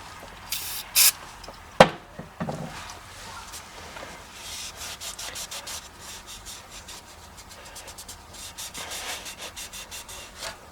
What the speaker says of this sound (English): So we're going to clean it up a little bit of a brake cleaner. Get it nice and dry.